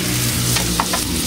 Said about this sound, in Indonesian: Sementara kita ngoseng-ngoseng ini ya